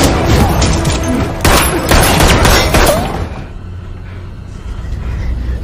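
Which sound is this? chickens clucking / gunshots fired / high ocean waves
gunshots fired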